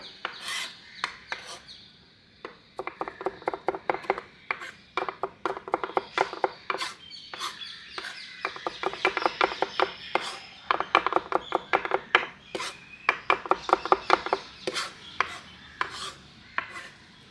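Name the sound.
chopping food with a knife on a board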